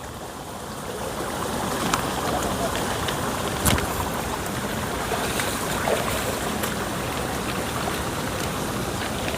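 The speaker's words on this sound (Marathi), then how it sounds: "हा बघा, इकडे एक ना छोटासा वाळ प्रवाहित झालाय." Water rushes steadily and close by while someone wades through a small, cold stream in a Konkan village during the monsoon, a continuous, fairly loud flow with no break.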